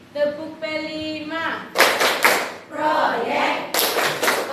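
Indonesian students perform the 'tepuk P5' rhythmic clapping chant in a classroom: chanted voices come first, then sharp bursts of group claps in quick clusters, close and loud.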